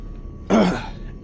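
A single short, close cough or throat-clear from a man playing a horror video game, rough and sudden, followed by quiet.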